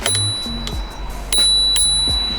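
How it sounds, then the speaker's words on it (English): A small handlebar bell on an electric scooter rings in several quick, bright dings that stand out clearly over a low background hum. "little bell to tell the people to move out the way when we are zipping straight through"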